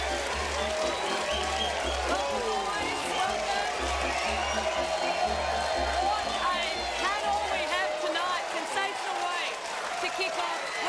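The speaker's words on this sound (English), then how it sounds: "Big round of applause." Continuous, dense applause from the studio audience of a 2017 Australian football TV show, loud and sustained for the whole stretch with scattered cheers mixed in.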